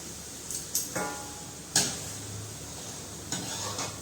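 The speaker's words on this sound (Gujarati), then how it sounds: "મિક્સ કરશું બધું આપણે" Spoon stirring tomatoes and chickpea curry in a pan, with a few distinct scraping clinks spaced across the stretch over a soft, steady background hiss, close and fairly quiet.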